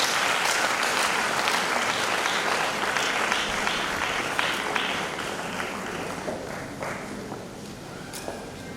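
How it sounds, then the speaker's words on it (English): An audience at an International Women's Day event gives the lead speaker a long, even round of applause, thick clapping that holds steady and thins only slightly toward the end. "A round of applause for her, please."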